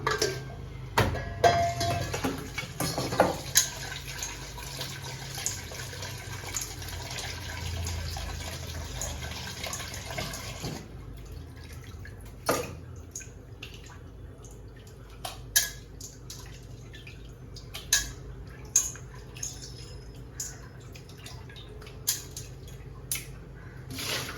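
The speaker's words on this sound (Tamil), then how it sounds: "அதை வந்து நம்ம வாஷ் பண்ணி மட்டும் நல்லாவே வாஷ் பண்ணணும்" Cut meat being rinsed under a running tap, water splashing steadily at first, then quieter trickling with intermittent drips and sharp clunks of handling, close and fairly soft.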